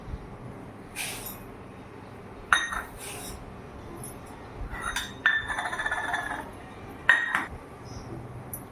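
Mung and masoor dal are rinsed in a metal vessel, giving bright clinks and scrapes of the pot with swishing water. They come in short bursts separated by pauses, close up, with a voice speaking faintly now and then.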